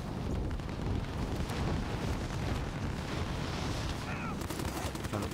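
Submachine gun fire in Call of Duty Warzone rattles in dense, continuous bursts with explosive game noise, loud and filling the mix throughout.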